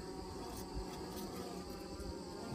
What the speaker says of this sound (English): They're pretty wild today, so a lot of buzzing around, a lot of flying around.